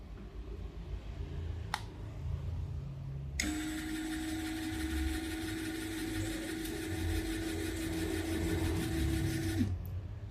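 DCA ADJZ2060i power tool running at speed 2, a steady whining motor hum that starts abruptly after a short click, holds evenly for about six seconds, then cuts off.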